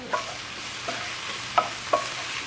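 Shrimp and grits ingredients sautéing on high heat in a pan, a continuous faint sizzle with four sharp utensil scrapes and clinks, no talking.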